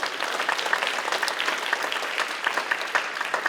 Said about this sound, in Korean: 박수 한번 좀 부탁드릴게요